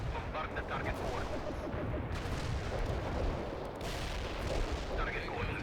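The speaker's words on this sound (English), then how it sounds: "Fire mission confirmed. Bombard the target forward." Heavy artillery bombardment in the real-time strategy game World in Conflict, a continuous dense rumble of overlapping shell blasts and gunfire, loud and sustained throughout with no clear breaks.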